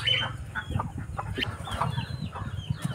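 A flock of chickens clucks at a yard pen, steady low murmuring clucks with occasional sharper calls, fairly quiet and continuous.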